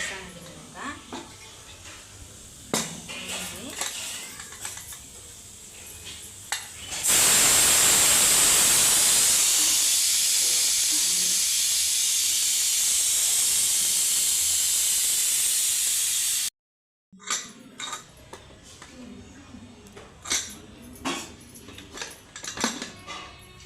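A pressure cooker holding mutton gives a loud, continuous steam hiss that lasts about ten seconds, then cuts off abruptly. Kitchen clatter and a voice are heard before and after the hiss.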